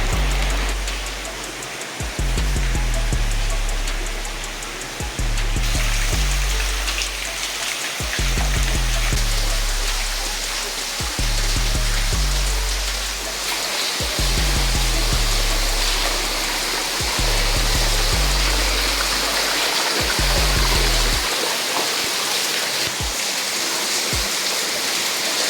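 Water pours and trickles steadily through limestone rock inside a cave chamber in Venezuela, a dense, continuous rushing wash with scattered drips and splashes and low rumbling pulses underneath, with no voices.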